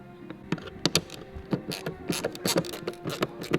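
Ratchet wrench clicking as a license plate mount is bolted onto a Toyota Supra MK4 bumper; close, irregular bursts of quick mechanical clicks, no talk.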